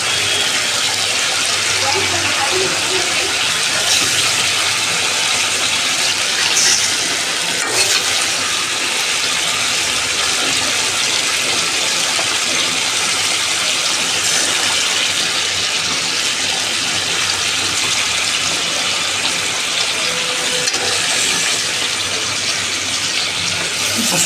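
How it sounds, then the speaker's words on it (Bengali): Fish goes into a pan of small round potatoes already frying, setting off a continuous loud sizzle and crackle that holds steady throughout, with occasional faint stirring sounds. "এখন আমি মাছ দিয়ে দিব।"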